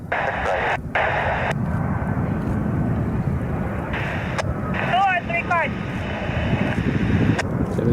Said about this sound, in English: This is going to be close because Frontier just touched down.